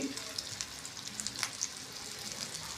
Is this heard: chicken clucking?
no